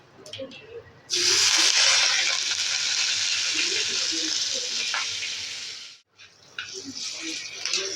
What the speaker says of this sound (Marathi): आपल्या तडक्यासारखा तडका करायचा फोडणीसारखं फोडणी करायची आहे